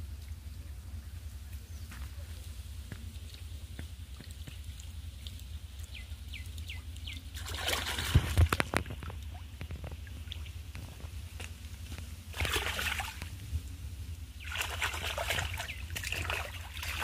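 Hilsa fish being rinsed and cleaned with water at home: a quiet background of trickling and dripping, broken by a few louder splashing bursts of water as the fish is washed.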